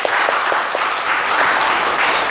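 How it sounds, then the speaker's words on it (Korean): A church congregation gives a steady, dense round of applause, many hands clapping together at close range for the whole stretch. "영광의 박수를 주님께 돌리십시다."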